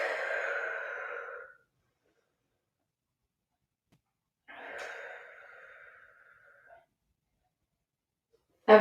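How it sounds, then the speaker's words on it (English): Two long, deep breaths during a child's pose stretch, each a soft airy exhale lasting a second or two and separated by a few seconds of silence, close to the microphone, with a sharp brief sound at the very end. "Breathing."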